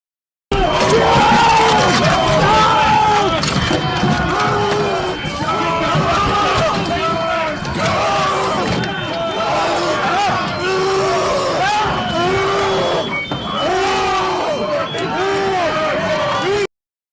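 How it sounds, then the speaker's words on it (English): A dense crowd of Trump supporters yells and chants while forcing entry at the US Capitol, loud and continuous, with overlapping shouts and voices throughout. "a crowd of Trump supporters trying to force their way in"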